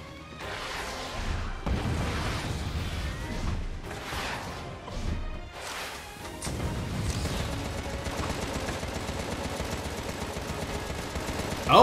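Gunfire from the video game Contra: Rogue Corps, dense bursts of shots and crashing impacts that keep up loudly and continuously, with game music and effects mixed in.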